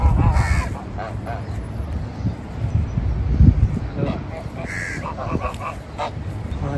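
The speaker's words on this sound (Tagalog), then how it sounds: "Mga uwak. Crow, ang dami." A large flock of crows caws repeatedly outdoors, harsh calls overlapping with honking geese nearby, while people talk over the birds.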